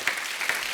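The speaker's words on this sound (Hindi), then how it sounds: "जोर जोर तालियां होनी चाहिए" Studio audience applause at a Hindi comedy talk show during a poetry special, a short burst of dense clapping at moderate loudness with no talk over it.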